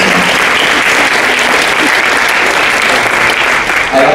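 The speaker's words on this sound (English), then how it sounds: "So please give JCB a round of applause and a big thank you for putting this on." A large audience at a student speaking event applauds in a dense, steady roar of clapping that holds at full strength throughout, loud and close, with no talk over it.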